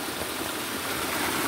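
A river swollen after heavy rains rushes past in a dense, steady roar of churning water, loud and close with no letup or change.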